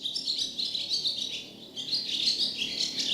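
A swallow with a crooked leg perches on a clothesline outdoors, singing a steady run of high chirps and twittering notes that carry on throughout, fairly close and clear with no voices.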